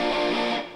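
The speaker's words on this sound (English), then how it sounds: "in the second half of the first verse I'm adding these guitar stabs which sound like this." A short, loud electric guitar stab with overdrive distortion, played as a single chord in a pop rock verse and ringing briefly before cutting off.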